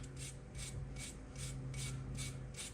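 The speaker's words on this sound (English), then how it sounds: "Clean off your inner caliper with a brush. All that brake dust is coming off there." A stiff brush scrubs brake dust off the inner caliper on the front brakes of a 1996-2011 Honda Civic EX, making about seven steady, rasping back-and-forth strokes up close over a low background hum.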